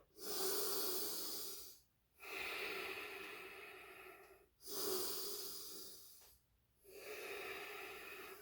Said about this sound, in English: Always breathe with the nose, in and out with the nose.